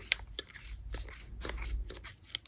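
Scissors snipping through crochet yarn at close range, several quick sharp cuts spaced irregularly, with light rustling of yarn in between.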